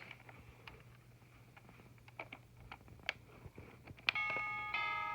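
Timex alarm clock switched to its chime alarm, giving a faint series of soft, scattered tinkling tones that ends in a brighter sustained chime near the close.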